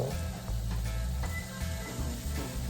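Beans tipped into a hot frying pan set off a steady, close sizzle with soft stirring scrapes, continuous and fairly loud for a few seconds with no voices.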